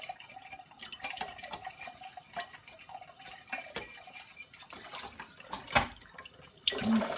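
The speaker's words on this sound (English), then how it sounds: "hear someone doing the washing up" Bottles being washed at a sink with a bottle brush by hands in small black rubber gloves, with clinking glass, scrubbing and splashing running water, irregular knocks and sloshes close up, no voices.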